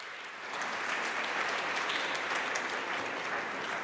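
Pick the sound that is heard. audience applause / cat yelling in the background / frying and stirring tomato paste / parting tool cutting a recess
audience applause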